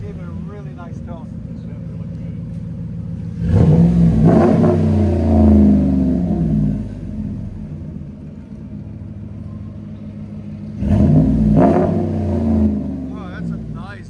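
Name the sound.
2016 RAM 1500 5.7L HEMI V8 revving, Flowmaster Super 44 exhaust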